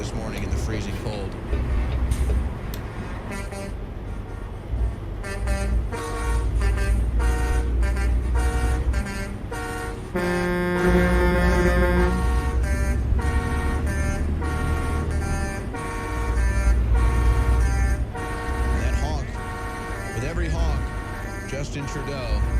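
Car horns honk again and again across a crowded square where flags are being waved, with long toots and short blasts layered over engine rumble and crowd noise while people talk over them.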